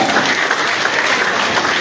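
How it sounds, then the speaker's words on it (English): A crowd at a senatorial candidates' debate claps steadily and briskly, dense and loud, with no voices over it. "If you correct me, you'll clap for yourself"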